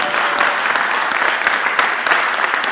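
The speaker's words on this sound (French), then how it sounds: "Est-ce qu'on peut se lever en acclamant comme de fou le Seigneur?" A church congregation applauds and cheers during a worship service, a dense, steady wash of clapping and shouting voices that fills the whole stretch without pause.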